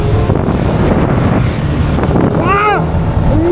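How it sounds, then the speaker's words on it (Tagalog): Strong wind roars steadily against the microphone during a motorcycle trip through northern Luzon, a loud constant rush near the mic, with a voice briefly rising over it near the end. "Lakas ng hangin dito"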